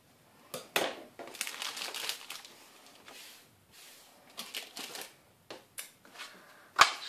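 Scissors or a blade trim excess paper or card for Easter pouches, making close, crisp snips and crinkling rustles in uneven bursts separated by short quiet gaps.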